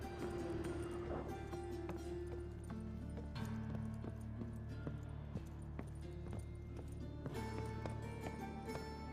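Horse hooves gallop in a steady, rapid clip-clop in The Witcher 3 video game, loud and continuous against a low rumbling game soundscape, with no pauses over the whole stretch.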